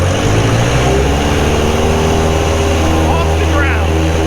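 A small airplane's piston engine roars steadily at full takeoff power after carb heat goes in and flaps come back, a loud continuous drone with a voice talking over it.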